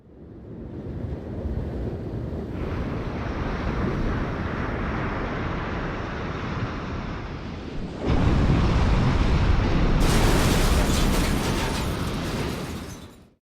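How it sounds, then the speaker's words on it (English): Roaring surge of tsunami waves rushing toward a coastline, a loud broadband rumble that builds and then jumps even louder in the last seconds, with no voices. "a tsunami causes the ocean to rear up like a mountain as it heads toward the coast"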